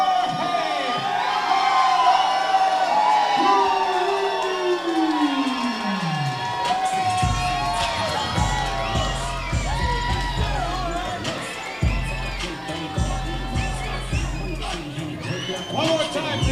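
Crowd at an MMA fight cheering and whooping after a guillotine-choke submission, a roaring arena din under a ring announcer's amplified voice.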